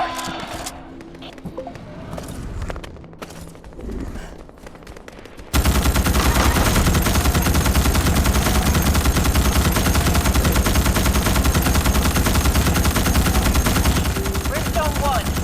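Sustained, dense automatic gunfire fills the battle in the video game Starship Troopers: Extermination. A quieter stretch with scattered shots gives way to loud, continuous firing.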